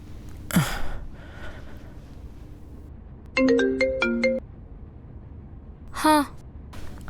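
A phone plays a short melodic ringtone, a clear burst of bright stepped tones in the middle, with sharp breathy gasps before and after it.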